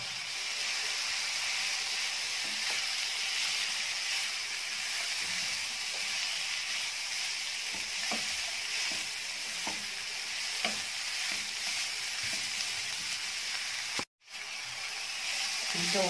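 Beef sautéing with peppers and finely minced garlic in a pan for a potato and meat tagine, a steady close hissing sizzle with occasional soft stirring clicks, briefly cutting out near the end.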